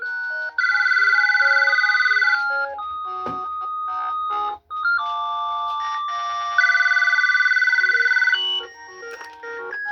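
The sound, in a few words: GE 28214KE2-A cordless telephone ringing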